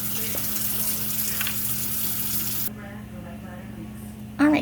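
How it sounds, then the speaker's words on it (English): Hands washed under running tap water in a home kitchen make a steady close hiss and splatter that cuts off partway through, then a brief clatter follows. "Let me just wash my hands."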